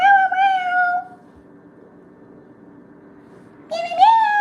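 Miss Mitty, a pet cat, gives two loud, close meows with a quiet gap between them. The first is drawn out and falls in pitch, and the second rises sharply.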